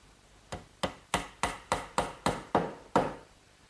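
Nine sharp, evenly spaced wooden knocks ring out close and alone as dowels are hammered in to pin the joint of a wooden kitchen work table.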